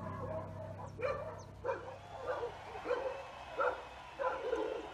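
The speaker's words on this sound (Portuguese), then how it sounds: "agora fez uma sinfonia de cachorro aqui" Several dogs bark and yip in a scattered, overlapping chorus, about six sharp bursts spread over a few seconds at moderate distance, with a steady low hum beneath and no talking.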